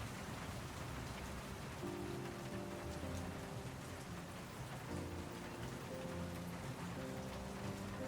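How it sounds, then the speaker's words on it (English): Steady rain pattering against an office window in World of Goo 2, with a soft low hum of music drifting in and out underneath; no voices. "The rain beats against the office window."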